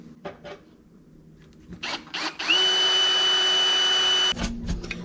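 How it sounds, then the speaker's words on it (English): A power drill drills out a spot weld on a truck bed, whirring up to a steady high-pitched grind for a couple of seconds, with clunks and handling noise around it. "Now we could drill it out just like the other ones."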